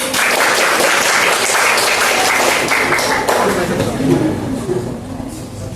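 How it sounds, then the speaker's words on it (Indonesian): Applause for a school group at an informatics class presentation, a dense burst of many hands clapping loudly, tapering slightly toward the end. "Tepuk tangan untuk kelompok 4."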